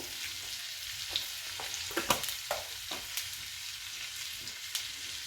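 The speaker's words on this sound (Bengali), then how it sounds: "জিরেটা ভাজা হয়ে গিয়েছে" Whole cumin seeds and a bay leaf fry in hot oil in a pan, a quiet sizzle broken by several sharp crackles and pops and a few stirring scrapes, close and without talk.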